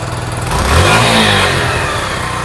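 Sinnis SC125 scooter with a fault, its engine blipped once from idle: the revs rise sharply and then hang high before slowly settling, heard close and alone.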